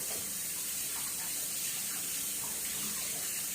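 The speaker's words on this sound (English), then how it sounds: "Let me rinse my hands off here" Tap water runs steadily into a sink as hands are rinsed during soap making, a soft even hiss with no talk.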